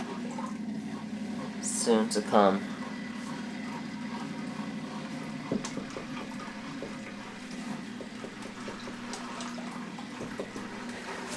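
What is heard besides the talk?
aquarium filter starting, splashing water into low fish tank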